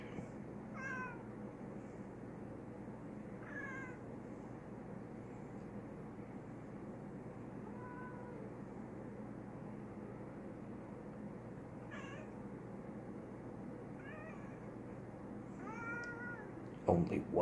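A cat meows in repeated short calls during a fight with a lizard, the cries spaced every few seconds over a steady low rumble, with a louder burst at the very end.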